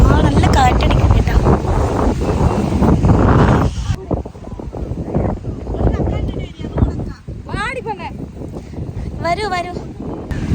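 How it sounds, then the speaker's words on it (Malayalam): Strong wind at a seashore buffets the microphone with a loud, rumbling roar for the first few seconds, then eases into lighter gusts as voices talk over it. "നല്ല കാറ്റടിക്കും കേട്ടോ."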